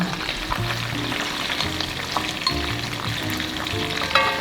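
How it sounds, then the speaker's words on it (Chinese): Onions fry in shrimp oil over medium-low heat for a shrimp pasta, a loud continuous sizzle under scraping and stirring with a low hum beneath. A brief clatter comes near the end, and there are no voices. "油热了，我们把洋葱放进去"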